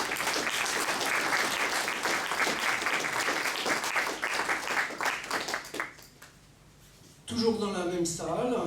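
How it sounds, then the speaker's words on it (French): An audience at a UFO-themed evening event in Paris applauds loudly, a dense burst of clapping lasting several seconds before fading, followed by someone speaking French. "Vous pouvez l'applaudir."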